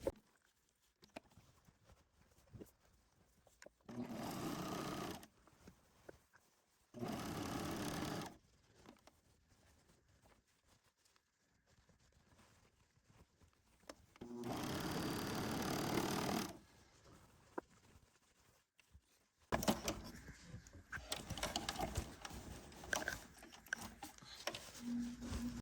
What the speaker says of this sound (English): Now I'm just going to run to the serger, and I'm going to serge this whole edge here.